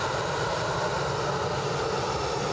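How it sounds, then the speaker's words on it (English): A Swiss-registered EasyJet airliner taxiing at Edinburgh Airport, bound for Geneva, its engines giving a steady, close, broadband roar that holds level and unbroken throughout, with no voices. "So we have a Swiss registered EasyJet taxiing past us on its way to Geneva."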